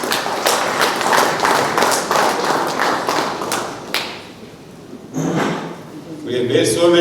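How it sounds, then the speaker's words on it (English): An audience claps hands at a schools workshop, a dense burst of rapid applause that thins out, then scattered claps and shuffling noise follow after a brief lull. "Let's clap hands as he comes."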